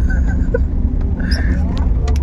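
A classic Toyota Corolla K20 rolls along with a steady low engine drone and road rumble heard from inside the cabin, while people inside talk over it.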